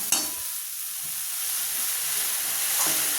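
Pumpkin greens are stirred in a pan with fried spices, a home-style dish with masoor dal, producing a constant soft sizzle and hiss with a few scraping strokes of the spatula.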